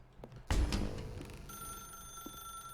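A telephone rings in The Stanley Parable video game, a loud bell burst that settles into a sustained ringing tone, heard alone without talk.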